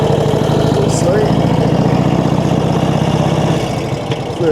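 A 1948 Indian Chief Roadmaster motorcycle with a left-hand throttle and a foot clutch runs steadily. Its engine gives a loud, close, rumbling chug that eases slightly near the end.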